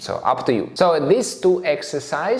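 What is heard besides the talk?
No everyday noises stand out.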